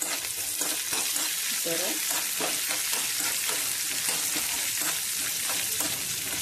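Green chillies fry in a pan of hot oil for coconut chutney, giving a steady, close sizzle and crackle with occasional stirring scrapes, while a voice briefly speaks over it.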